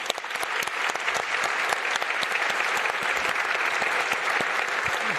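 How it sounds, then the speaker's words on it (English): An audience at a global political summit applauds a panel, a loud, dense and sustained burst of many hands clapping with sharp individual claps standing out throughout. "a round of applause for our panelists"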